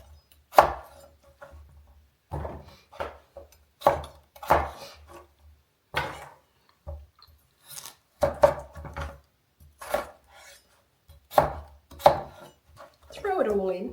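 Potatoes being chopped on a board for pumpkin soup: sharp, close knife knocks arrive in irregular bursts with short pauses, clear and alone, with a faint voice near the end.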